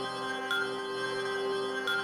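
Killer7 video game ambience: a soft steady electronic hum with tonal layers, broken by two faint high keyboard-style beeps spaced over a second apart.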